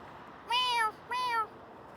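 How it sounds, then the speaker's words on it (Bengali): Two distinct cat meows in quick succession, clear and fairly close, outdoors in Saudi Arabia, with only faint background noise between them. "শখের বিড়াল"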